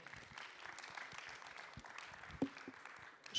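An audience at a conference closing session claps for a speaker, quiet and distant steady applause with a few louder individual claps near the end.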